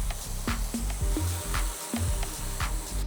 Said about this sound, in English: Now we're just gonna run the surface cleaner over everything.